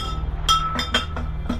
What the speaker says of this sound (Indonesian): satu botol minuman di dalam kulkas bergerak